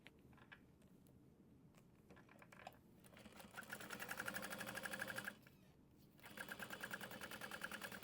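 A sewing machine bastes a zipper onto a crossbody bag lining, running in close bursts of rapid, even stitching separated by brief pauses and small clicks.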